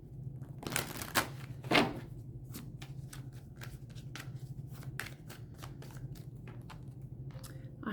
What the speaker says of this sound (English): I'm gonna shuffle that again.